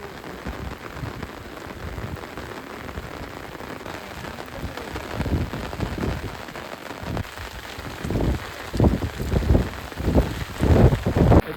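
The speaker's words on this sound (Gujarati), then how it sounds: "વરસાદ એટલો પડે છે" Heavy rain pours at night on a camping site in a steady, dense patter, with louder bursts of drops hitting a nearby surface toward the end and no talk.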